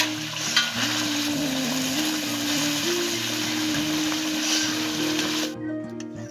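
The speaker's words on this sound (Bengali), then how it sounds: "মশলাটা ভালো করে ফুটে গেছে, এরপর মাছগুলো দিয়ে দিচ্ছি।" Pabda fish frying in a bubbling spice mixture, a constant close sizzle and crackle with a faint steady hum beneath, cutting off abruptly near the end.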